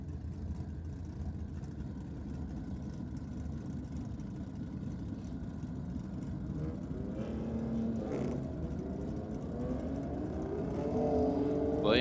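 A black VK Commodore drag racing car at a racing meet, its engine a low, distant rumble that swells gradually and grows louder toward the end.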